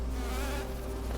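Small bees in the video game Hollow Knight give off a steady, close insect buzz, continuous and even with a low droning hum beneath it.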